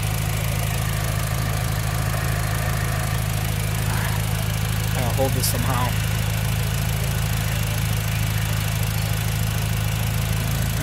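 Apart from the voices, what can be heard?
car engine idling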